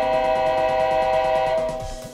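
Horn sound effect from an Atlas Trainkids glow-in-the-dark toy passenger train, a sustained electronic horn tone held for about two seconds over the steady clicking rhythm of the running train before it cuts off.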